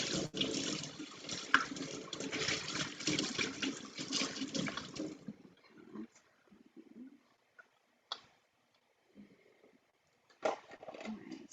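Tap water runs steadily into a sink for about five seconds while an item is rinsed off, then stops, leaving quiet handling clatter and a few brief knocks.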